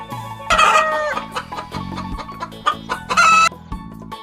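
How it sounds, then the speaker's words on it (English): Hen clucking in short, repeated bursts with a couple of louder squawking calls, close and clear over a steady backing tune. "Hen."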